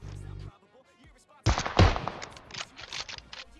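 Gunfire in the mobile battle-royale game PUBG Mobile: a brief low hum, then a dense burst of loud rapid shots and crackling impacts in close succession during the second half.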